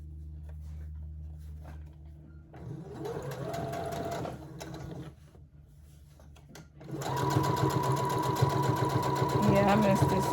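A sewing machine stitches a toddler halter top in bursts, a short run early and a longer, louder steady run near the end, with a low motor hum between and some speech around it.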